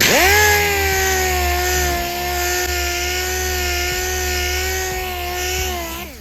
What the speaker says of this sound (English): when you're sanding this down with the interface pad 320